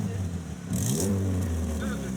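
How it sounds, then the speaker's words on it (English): A car engine revs once over a steady idle, rising in pitch and then settling, while someone talks nearby. "Give it a little rev."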